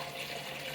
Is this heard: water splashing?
yes